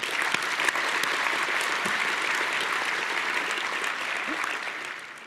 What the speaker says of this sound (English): Yeah, well, that deserves a clap.